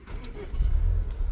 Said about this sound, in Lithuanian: Automobilis dirba tvarkingai.